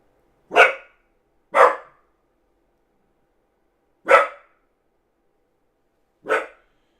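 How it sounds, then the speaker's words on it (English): A dog barks four times, loud and close, in single separate woofs spread unevenly across a few seconds of otherwise silent room. "Dog's barking."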